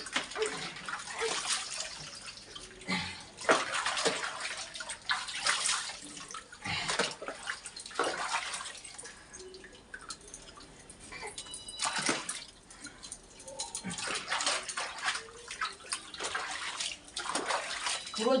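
Water splashes and sloshes steadily while someone is bathed with shampoo, with irregular pours and wet slaps repeating close by for the whole stretch and faint voices occasionally underneath.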